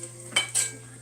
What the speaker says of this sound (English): I'm just trying to cut it with the spatula and I can't